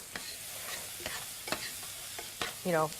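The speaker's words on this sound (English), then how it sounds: "frying up the steaks" Steaks sizzling and frying in a pan for Steak Diane, with a few scraping stirs and a brief higher squeak near the end, no talking.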